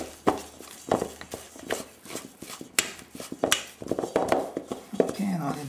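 Apple pie ingredients mixed in a bowl, with irregular clinking scrapes and knocks of utensil against the bowl, close and uneven, while people talk.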